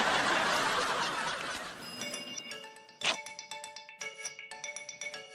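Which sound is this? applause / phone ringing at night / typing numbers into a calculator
phone ringing at night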